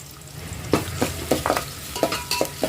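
Cut potatoes and curry leaves dropped into hot oil with mustard seeds, cumin and lentils, a near, fairly loud sizzle with several quick spatula scrapes and clicks.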